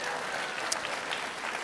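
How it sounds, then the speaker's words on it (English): A church congregation at a Good Friday service claps together in a brief burst of dense, close applause, with faint voices mixed in. "People start clapping."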